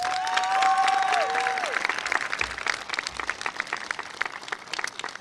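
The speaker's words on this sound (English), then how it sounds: "Class of 2022, please take a moment and give a round of applause to your support systems." A graduation crowd for the class of 2022 breaks into loud applause, with a rising whistle near the start and the clapping thinning toward the end.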